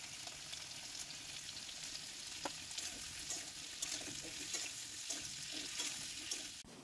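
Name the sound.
pumpkin and cauliflower frying in hot oil in a wok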